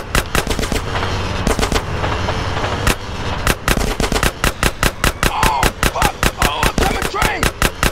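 Rapid automatic gunfire from GTA San Andreas rattles in loud, dense bursts that pause briefly and then resume at an even quicker clatter.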